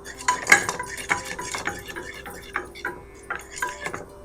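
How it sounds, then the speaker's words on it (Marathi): Cooked spinach is mashed and beaten in a pot, giving a run of sharp metal-on-metal clinks and scraping knocks in an irregular rhythm, close and fairly loud with no talking. "आपलं पालक शिजलेलं आहे आणि आता आपण ह्याच्यानं घोटून घेऊया."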